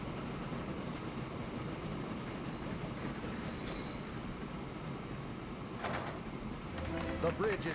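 Coal train of coal wagons running in the railway game Transport Fever: a faint, steady rolling rumble with brief high wheel squeals and clicks rising toward the end, all quiet and distant.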